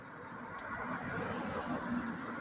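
A car passes on a road at night, a steady broad rumble of tyres and engine swelling gently at moderate distance with no voices.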